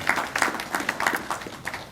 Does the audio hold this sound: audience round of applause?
yes